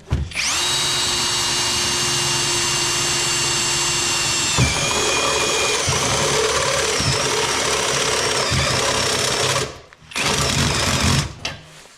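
A loud electric drill whirs steadily close by, boring a hole in the side of a Vladimirets T-25 tractor's dashboard, its pitch shifting as it bores, then briefly cuts out near the end before spinning up again.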